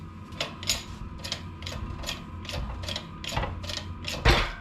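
A bearing puller is ratcheted to press a part through on 3rd-gen 4Runner front gear work, a close series of evenly spaced metallic ratchet clicks, about two per second, ending in a louder clank.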